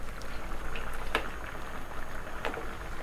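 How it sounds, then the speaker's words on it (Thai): Broth bubbling in a pot on the stove while preparing Thai pla ra song khrueang, a steady close simmer with occasional louder bubble pops, no speech. "เดือดนะต้องใส่น้ำปลานะครับ"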